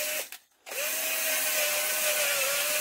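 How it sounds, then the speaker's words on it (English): A drill-driven brush scrubs sticky, sediment-laden oil residue from inside an old Kohler Bonser engine left for years in a hedge, its motor whining steadily and closely after a brief stop and restart near the beginning. "out comes our drill brush to clean in here"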